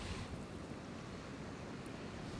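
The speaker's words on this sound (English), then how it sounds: "wind's really got up now" Wind blows steadily at the coast while fishing, a continuous close rushing noise with surf-like wash and no breaks.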